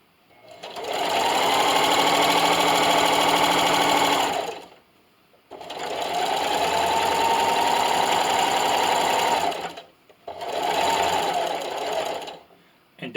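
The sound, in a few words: sewing machine finishing a seam on a tablet stand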